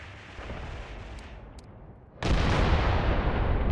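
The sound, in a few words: artillery salvos firing, from the video game Mius Front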